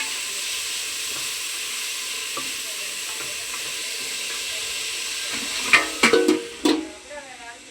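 Tomatoes sautéing in a pan after onions, a steady, soft sizzle and hiss close by, with a few clattering stirs and scrapes of a utensil toward the end, and no talk.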